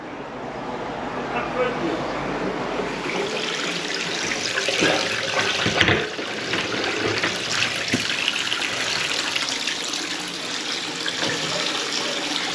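Water runs steadily through a newly fitted tap fed by a 15mm braided hose, a continuous hiss and splash at close range, with people talking over it.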